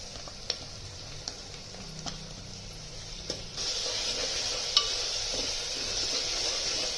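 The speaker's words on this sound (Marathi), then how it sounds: "तेल गरम झालं की त्यात कांदा टाकायचा कांदा चांगला परतून घ्यायचा आपलं हे वाटण टाकायचं त्यामध्ये" Onion and ground masala paste hit hot oil for a home-style chicken curry, starting as a soft crackle with light stirring clicks, then swelling into a louder, steady sizzle partway through.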